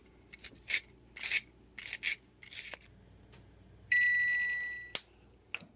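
Lemon zest is grated by hand on a metal grater in short separate rasping strokes, close and fairly loud, followed by a sustained electronic beep and a final sharp tap.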